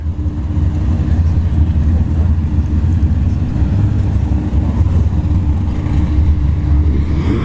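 A Nissan 240SX S13 drag car with an SR20-like engine idles loud and steady at a drag strip, a constant low rumble with no clear revving.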